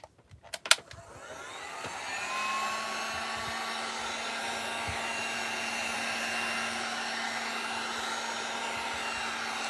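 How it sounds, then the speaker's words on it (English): A hair dryer or heat gun blows steadily at close range to warm glue on a Dollar Tree craft sign, a constant whooshing hum after a few brief clicks at the start. "I am just going to heat this up, and then we'll just stick it right back on to our sign."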